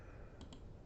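A brief burst of typing a web address on a computer keyboard, two quick key clicks standing out faintly over a quiet background hum.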